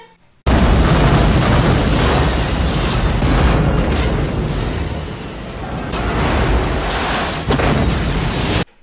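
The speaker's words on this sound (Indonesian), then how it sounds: "tiba-tiba ada ledakan dahsyat dari gunungnya" A massive, sustained roaring blast of a volcanic eruption in a film, starting abruptly and rumbling on for several seconds, deep and overwhelming, swelling and easing without pause.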